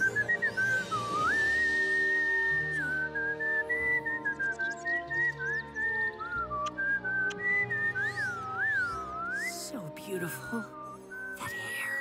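A person whistles a wandering, sliding melody, loud and close, with short pauses between phrases and some background sound underneath.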